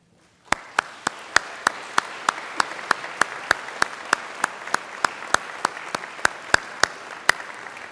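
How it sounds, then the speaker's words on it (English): Graduates applauding their family and friends at a university graduation ceremony, a large hall of clapping starting abruptly, with a regular series of sharp, loud claps standing out in steady rhythm over the crowd. "give your family and friends a mighty round of applause"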